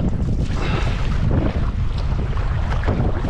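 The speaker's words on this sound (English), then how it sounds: "Wind is brutal." Strong wind buffets the microphone at a lakeside campsite in Craig Lake State Park, with a steady loud roar and gusty rumble running unbroken throughout, and no talking.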